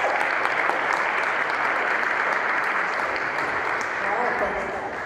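A conference audience greets a speaker with dense, sustained applause. The clapping stays loud and even throughout, then eases slightly at the very end.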